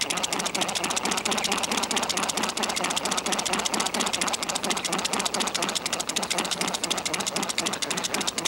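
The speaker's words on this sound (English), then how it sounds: "Then you would use hand mechanical spatula and really mix this one about 60 to 70 times." A hand mechanical spatula mixing dental investment in a bowl makes a steady, rapid rattling whir that runs evenly and close up throughout, with no talk over it.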